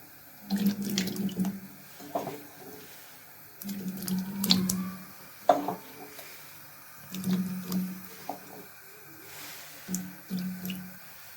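Cut potatoes being washed by hand in water, with repeated sloshing and squishing, light drips and tap-like splashing in uneven bursts, close and moderately loud.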